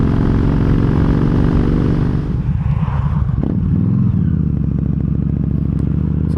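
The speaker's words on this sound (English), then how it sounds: "So then there was no need to do that little blip, but I did it anyway." Motorcycle engine gives a quick throttle blip while rev matching on a ride, a short rise in revs mid-clip over steady engine drone and road noise.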